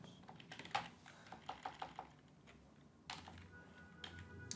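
Keys tapped on a computer keyboard while a Cosmos DB query is entered, a sparse run of quiet, close clicks in short bursts with pauses between them and no voices.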